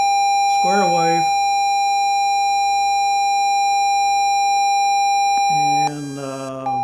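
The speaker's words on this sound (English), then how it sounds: "Here's the square wave." A square wave test tone from a signal generator, set up as a CW-style Morse tone, sounds as a steady buzzy note under a faint background hum, with someone talking at the start and again near the end.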